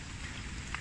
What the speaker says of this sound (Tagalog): Tapos sinabayan ngayon ng ulan